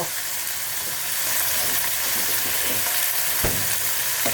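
Peas and scallops stir-fried in a pan with a little sesame oil, giving a steady, close sizzle with scraping and stirring, and one sharp knock of the utensil near the end.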